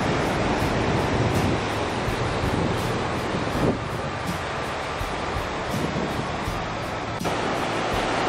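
Ocean surf at Padang beach in West Sumatra, a continuous broadband roar of waves mixed with wind buffeting the microphone, loud and steady with occasional gusty bursts.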